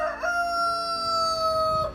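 A dominant rooster in a farm flock crows once, a loud, close, sustained cock-a-doodle-doo that holds a clear tone for nearly two seconds with no talking.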